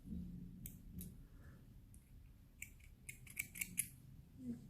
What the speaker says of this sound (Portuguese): Agora podemos cortar o fio.